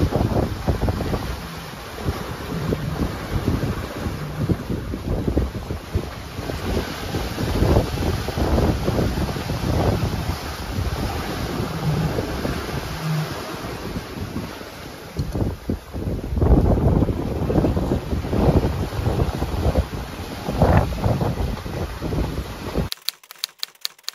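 Strong wind of about 30 knots roaring across a solo sailboat at night in the Strait of Bonifacio, steady loud buffeting with irregular gusts and rushing water, ending abruptly.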